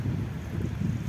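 Cold wind gusts across the microphone outdoors near water, a brief, low, continuous buffeting rumble with no voices.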